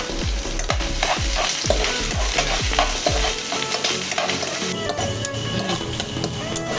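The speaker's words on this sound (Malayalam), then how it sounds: "അതിലോട്ട് നമ്മൾ എടുത്തു വെച്ച വെളുത്തുള്ളിയും പച്ചമുളകും ഇഞ്ചിയും ചെറുതായിട്ടൊന്ന് മൂപ്പിച്ചെടുക്കണം." Garlic, green chillies and ginger sizzle loudly in oil in a pan for an apple pickle, with repeated scraping stir strokes in a steady rhythm through the first half, then a continuous close frying hiss.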